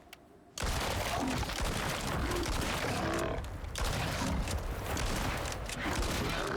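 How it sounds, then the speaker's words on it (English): Shotgun slugs fired in the survival video game Icarus, in a snowy arctic area: a sustained loud barrage of booming shots packed closely together, starting abruptly after a brief quiet moment. "missing with the shotgun. I mean, they are slugs"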